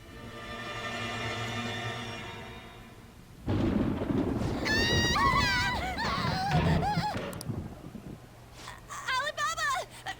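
A loud thunder rumble rolls out during a lightning storm in the video game Persona 5, starting abruptly and sustaining under overlapping excited voices that talk and shout over it.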